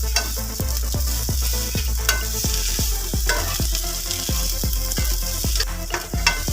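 Coriander leaves sizzle loudly in a hot pan, with a steady fry hiss broken by a rapid, regular series of scraping stirs that repeat every fraction of a second throughout.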